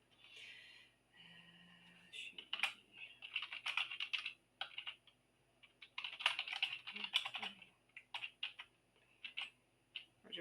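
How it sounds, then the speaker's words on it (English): Quiet keystrokes on a computer keyboard clatter in uneven bursts, with short pauses between runs of typing. "Is the sound of somebody typing white noise?"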